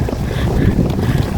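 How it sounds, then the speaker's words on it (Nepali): Strong wind blows outdoors at Manichud, buffeting the microphone with a loud, low rumbling roar for the whole short stretch. "कस्तो मजाको हावा आएको।"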